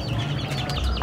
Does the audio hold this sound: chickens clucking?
yes